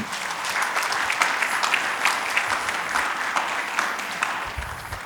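A church congregation applauds steadily and loudly for about five seconds, a dense, continuous clapping that carries through to the end of the clip without pause.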